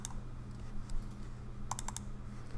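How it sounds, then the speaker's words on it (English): Computer keyboard keys pressed while working in Blender: a handful of crisp, close clicks, one early and a quick cluster of three or four near the end, over a low steady hum with no talking. "then we're going to press X on our keyboard"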